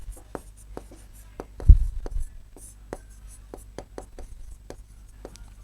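Pen or pencil strokes scratch on paper during a geometry lesson: a steady run of short, close taps and scrapes, with a brief soft knock and low murmur partway through.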